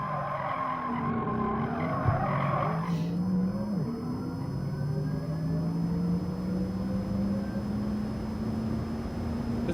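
A Porsche Taycan electric car in Gran Turismo Sport, lapping Laguna Seca, gives a rising electric motor whine with no gear shifts. Tires squeal and skid through a corner early on, then the whine climbs steadily, loud and continuous.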